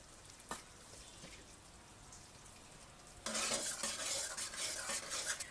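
Masala with chopped green and red chillies frying in oil, a soft sizzle with spoon scrapes that swells into a loud, crackling burst of frying partway through.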